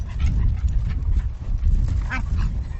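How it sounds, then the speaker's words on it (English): Dogs play close by, making scattered whines, grunts and short yelps over a noisy, rumbling background. "There's a very, very amusing dog play going on."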